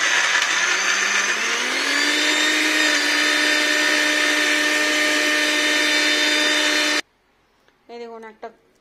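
A mixer grinder whirs loudly and continuously while grinding a paste with dried chillies, its motor pitch rising slightly early on, then cutting off abruptly, followed by a short burst of speech.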